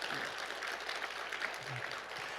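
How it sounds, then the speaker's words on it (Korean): A church congregation applauds through a Sunday evening service, a steady wash of clapping that stays even from start to finish with no clear break. "박수 한번 쳐주시면 감사하겠습니다."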